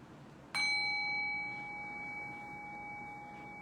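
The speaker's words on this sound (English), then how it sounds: "Rest your awareness on the decay of the bell." A meditation bell is struck once, giving a bright, clear ring with pure sustained tones that slowly fades into a quiet room.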